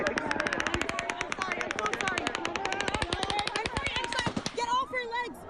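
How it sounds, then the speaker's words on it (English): Rapid automatic gunfire at the Las Vegas concert shooting rattles in one long, sustained, evenly spaced burst of loud shots, with voices and shouts mixed in beneath and after the firing. "panic as people took cover and the gunfire started again"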